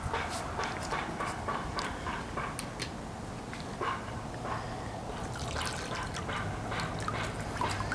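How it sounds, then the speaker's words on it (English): Water splashes and trickles steadily onto a grown-out buzz cut as hair is wetted, likely with water from a spa, making a continuous close wet patter with small drips throughout. "I'm going to wet my hair just so you can see kind of where it's at"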